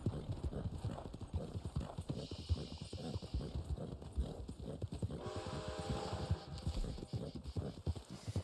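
Horse hooves clip-clop steadily in Red Dead Online during a snowstorm, a continuous rhythmic run of close, crisp hoofbeats with a faint wind-like hiss behind and a brief muffled voice.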